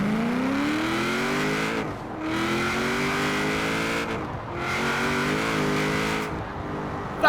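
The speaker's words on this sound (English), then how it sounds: "let us see how this big V8 sounds in this" Big V8 in a Vauxhall Insignia VXR inside Forza Horizon 4, revving hard through repeated upshifts with rising harmonic sweeps and brief dips between gears, loud and close with no voices.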